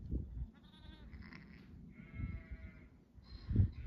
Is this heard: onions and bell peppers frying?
no